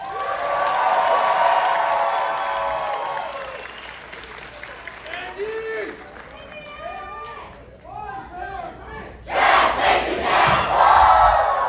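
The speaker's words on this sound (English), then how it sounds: "Can I have one more round of applause for trans?" Audience applause and cheering with crowd voices at the VSAUCI Rose Pageant 2026, loud and sustained at first, easing while a voice speaks, then surging back to full strength near the end.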